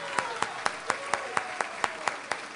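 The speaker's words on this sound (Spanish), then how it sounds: "que Carlos Rubira Infante escuche este aplauso" Audience applause honoring Carlos Rubira Infante at a tribute evening, heard as slow, evenly spaced claps about every quarter second, moderately faint and steady.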